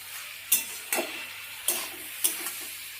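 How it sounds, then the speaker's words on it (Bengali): Snake gourd being stirred in a pan over low heat, giving four sharp scraping strokes roughly half a second to a second apart over a faint steady background, with no voices. "এবার একটু আবার নাড়িয়ে দেব"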